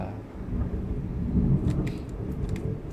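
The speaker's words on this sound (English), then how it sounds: "there's like a thunderstorm going on" Deep rumbling thunder rolls through a steady wash of rain during a storm, continuous and fairly loud, with faint crackling highs.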